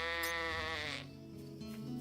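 A sheep in the video game The Good Life bleats in one long, wavering call, close and clear, followed by a lower, shorter bleat.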